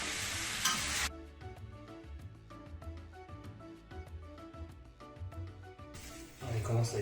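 Gnocchi coated in pesto frying over high heat in a pan, a loud hiss at the start and finish bracketing a stretch of rhythmic scraping and clinks from stirring.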